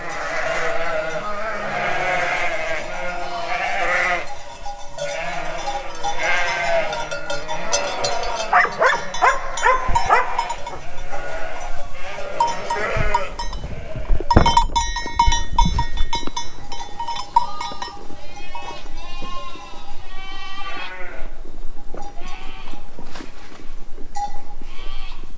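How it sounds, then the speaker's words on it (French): Ewes bleat repeatedly while eating concentrate feed in a farm pen, a loud, crowded chorus of overlapping calls with clattering and a dog barking among them. "maintenant les brebis sont en train de manger le concentré"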